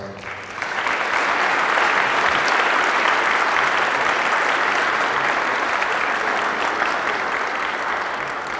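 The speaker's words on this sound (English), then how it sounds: "if we could give him a round of applause" Audience applause at a county award presentation during a state of the county address, rising quickly after a brief pause into loud, sustained clapping that holds evenly to the end.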